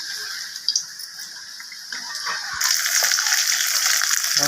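Water pours in a steady splashing stream as a mixer grinds spice paste, turning louder and more gushing about halfway through, with no voices.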